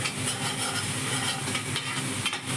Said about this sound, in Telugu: అల్లం వెల్లుల్లి పేస్ట్ వేసేసిన తర్వాత ఇప్పుడు కొంచెం పచ్చివాసన పోయేంత కొంచెం వేయించేసుకొని